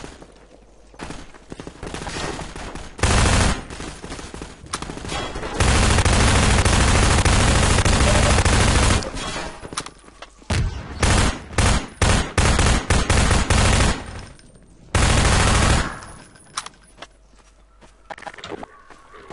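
Bursts of rapid SMG-style automatic fire in Half-Life 2, loud and close, with a long sustained burst followed by several short choppy volleys and quieter gaps between.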